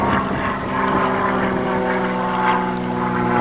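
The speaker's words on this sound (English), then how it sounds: "There comes the airplane over top now" A small local propeller airplane passes overhead near a dam, a steady loud droning engine hum with rich low harmonics that holds at even strength throughout, with no talk.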